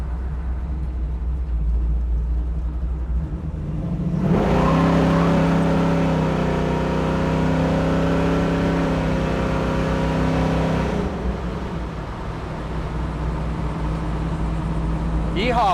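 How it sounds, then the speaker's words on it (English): A 1969 Chevrolet Camaro engine idling with a deep rumble, then revving up loud and holding a throaty roar for several seconds before settling back to idle. "That's the sound of a muscle car."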